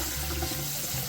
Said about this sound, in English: we're gonna just put some hot water over, and we'll just do this. Just rinse them a little bit